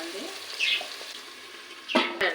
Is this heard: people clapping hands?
no